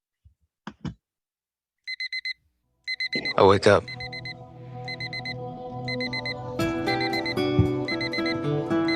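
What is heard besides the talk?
alarm clock ringing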